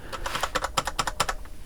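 Fingers type on a tactile, non-clicky CompUSA mechanical keyboard, producing a quick, uneven run of close, crisp keystrokes with no talking.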